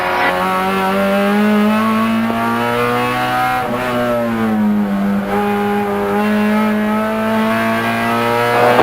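Honda Coupe race cars roar past on a circuit in a NASA National Honda Challenge race, a loud sustained engine note rising and falling through gear changes with a brief dip mid-pass, no talk.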